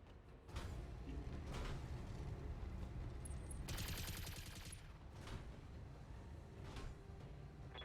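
Rapid weapons fire from a BattleTech mech combat game, aimed at a trebuchet: dense, loud, rattling bursts that keep coming in a sustained fusillade, with a harsher, brighter volley in the middle.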